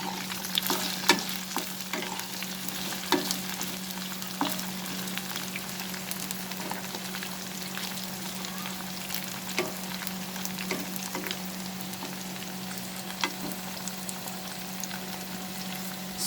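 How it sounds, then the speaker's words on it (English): Okra and chicken fry over a high flame with a continuous soft sizzle, broken by occasional scrapes and taps of a spatula stirring the pan, steady and fairly quiet, with no talk. "So over high flame, we'll fry this for near about 2 minutes"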